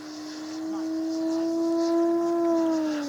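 Electric motor of a Legend Hobby OA-1K Skyraider II RC plane with a 2212 power system, a steady tonal whine with clear harmonics that slowly swells louder overhead, alone without talk.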